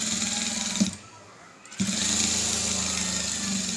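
Sewing machine running steadily while topstitching a lined blouse, a close mechanical whir that stops briefly for about a second and then resumes at the same pace.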